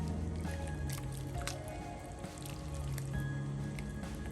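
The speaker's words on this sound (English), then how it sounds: "We just take those beans, add them in there, give them a little stir." Beans stirred into a pot of rustic harvest minestrone soup give soft, wet squishing and dripping sounds that continue steadily throughout, close by and with no talking.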